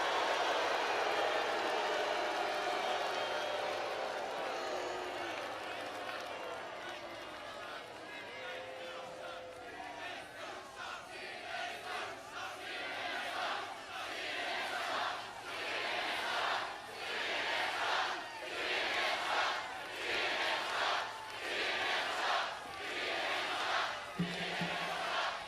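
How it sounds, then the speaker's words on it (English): Large crowd at a Trump rally in Macon, Georgia, a distant sustained roar of many voices that swells into rhythmic rising and falling cheers and chanting, heard from afar beneath a faint voice over the sound system. "This is a hell of a big crowd"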